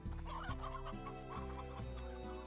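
Chickens cluck repeatedly in a farm zone of the video game Slime Rancher, a layered, steady chorus of clucks, with no talk.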